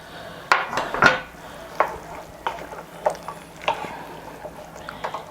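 Carrot, zucchini and green beans being stirred in a pan for Japanese curry: a spoon scrapes and clatters against the pan in a few distinct strokes over a low, steady sizzle, with no talk.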